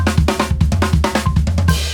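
A rapid linear drum fill on a kit, alternating sharp snare and tom hits with punchy kick drum strokes in a steady, driving pattern, played loud and close.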